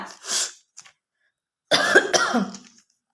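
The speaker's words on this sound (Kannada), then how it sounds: "ನೆಗಡಿ ಕೆಮ್ಮು ಅದಕ್ಕೆ ಸ್ವಲ್ಪ ಮಧ್ಯೆ ಮಧ್ಯೆ ಆ ಥರ ಆಗತ್ತೆ" A person with a cold coughs once, then after a short pause lets out a longer, harsher burst of coughing, close and fairly loud.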